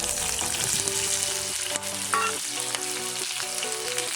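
Steady, bright sizzling of shallots frying in hot sesame oil, with occasional stirring clinks and scrapes; no voices.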